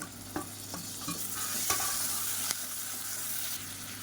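Tomato sautéing with onions in a pan for a side dish, a continuous sizzle broken by several sharp scraping stirs of a spoon against the pan, close and without speech.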